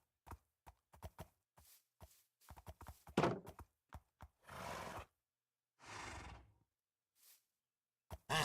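A Minecraft horse whinnies amid a series of short, sharp clip-clop and thunk sounds, with two longer broadband neigh-like bursts in the middle and quick, irregular clicks before them.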